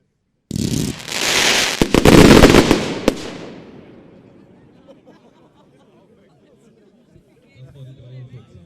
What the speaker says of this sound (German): Die 43 El Gato Terremoto, 1 Sekunde, 50 Schuss